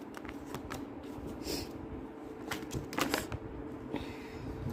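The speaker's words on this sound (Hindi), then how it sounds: "कार्ड्स गिर रहे हैं मेरे हाथों से" A deck of tarot-style cards being shuffled by hand and slipping loose: soft rapid riffles and light slaps in short bursts, close and fairly quiet, with no talk.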